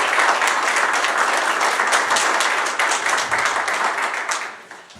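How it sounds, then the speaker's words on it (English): An audience at a community event applauding sponsors, with steady, full crowd applause throughout that gradually tapers off toward the end. "So if you could all applaud all of our sponsors."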